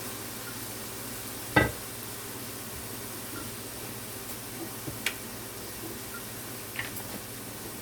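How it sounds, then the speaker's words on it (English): Saltfish sautés in a pan with a soft, steady sizzle and hiss, broken by a few sharp clinks of a utensil against the pan. "I'm just going to let this saute a bit."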